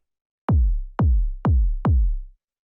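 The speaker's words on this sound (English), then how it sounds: "There's the original kick." Four hard-hitting, punchy techno kick drum hits from an unprocessed sample, each a sharp click dropping into a short deep boom, evenly spaced and isolated in silence.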